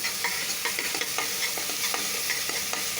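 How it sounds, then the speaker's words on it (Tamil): Ginger and garlic fry in a hot pan with a loud, steady sizzle while a spoon stirs in regular scraping strokes, close up and without talking. "நல்லா இஞ்சி பூண்டு இது போட்டு நல்லா கலக்குன்னு கலக்கியாச்சு பாருங்க"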